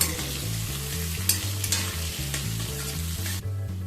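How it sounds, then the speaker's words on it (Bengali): Steady sizzling of potatoes frying in hot oil, with occasional stirring clinks and scrapes, continuous and close throughout, no voices. "আলুটাকে খানিকক্ষণ একটু ভাজা ভাজা করে নেব।"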